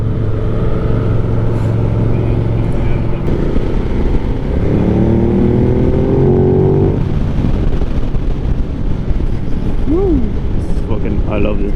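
A Ducati Multistrada motorcycle is ridden on the road, its engine droning loudly and continuously under heavy wind noise, with the pitch rising and falling as it revs.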